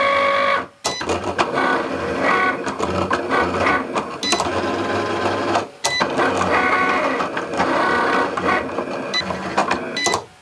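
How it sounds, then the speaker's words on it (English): A Cricut cutting machine makes another cutting pass over a reusable stencil, whirring and buzzing steadily at close range with two brief pauses as the carriage changes direction. "I'm going to press the C button on my machine to cut one more pass over the top"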